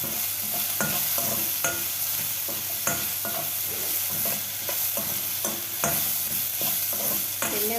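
Tomato chutney ingredients fry in oil in a pan, with a steady sizzle broken by repeated scraping and stirring knocks, close and fairly loud, no voices.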